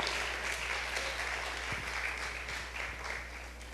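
A church congregation applauding during Pastor Marlon Florez's sermon, a dense, even wash of many hands clapping at moderate distance for several seconds.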